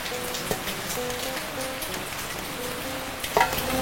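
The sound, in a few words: rain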